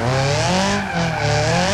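A drift-built car in the BeamNG driving game, low on engine oil, squeals its tires in a continuous loud screech over a steady, wavering engine drone, close and without speech.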